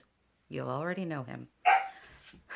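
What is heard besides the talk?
dog Milo barking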